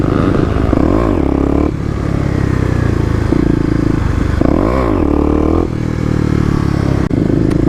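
A Kawasaki KLX250 dirt bike revs hard in second gear during clutch-pop wheelie attempts, the engine surging and dropping in several loud, close bursts with brief gaps between pulls.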